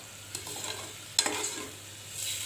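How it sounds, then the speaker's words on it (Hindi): Spice paste for chole roasting in a pan, a soft low sizzle with a couple of brief scraping stirs, close but quiet, no voices. "ये देखिए ये हमारा पेस्ट भुन रहा है"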